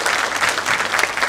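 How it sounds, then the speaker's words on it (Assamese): An audience applauds drama performers after a stage play, a dense, steady burst of clapping from a crowd that stays fairly loud and even throughout. "এই কলা কুশলীসকলৰ বাবে এটা হাত চাপৰি বিচাৰিছো আপোনালোকে"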